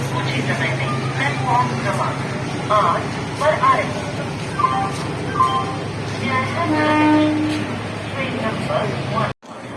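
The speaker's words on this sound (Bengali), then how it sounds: "ট্রেন এসে দাঁড়িয়েছে দীনদয়াল উপাধ্যায় স্টেশনে" Netaji Express, Howrah–Delhi–Chandigarh, standing at Deen Dayal Upadhyaya station while other trains move past; a continuous low rumble with scattered clanks, a brief horn-like tone, and people talking over it throughout.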